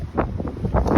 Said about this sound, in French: Voilà, c'est la tempête absolue. Il y a un vent de ouf.